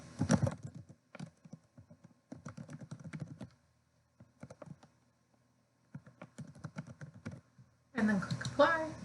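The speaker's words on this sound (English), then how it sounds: "you type in your email address" Keys clatter on a computer keyboard as an email address is typed, in quick close bursts separated by pauses, with a voice speaking at the end.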